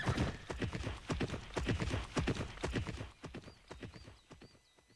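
Horses' hooves clip-clop in a quick, rhythmic walk on the ranch in the video game Pippa Funnell Ranch Rescue, with a whinny. The hoofbeats fade toward the end and a faint chirping comes in.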